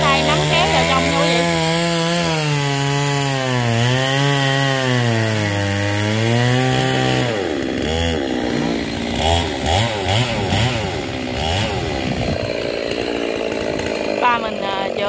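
A chainsaw cuts through royal palm fronds, its engine pitch rising and dropping with revving before it bogs into steady cutting, loud and close, with people talking over it.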